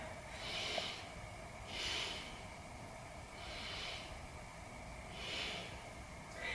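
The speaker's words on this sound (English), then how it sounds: "Let's take some nice deep breaths here." Slow, deep yoga breaths come and go in an even rhythm, about four soft airy swells spread evenly through the stretch, faint and close, over a low steady background hum.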